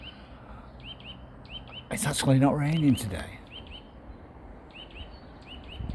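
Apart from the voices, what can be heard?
bird singing in a tree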